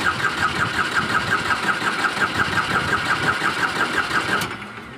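Ford 3600 diesel tractor engine turning over after a timing adjustment, with a loud, close, steady pulsing chug for several seconds before it cuts off abruptly near the end.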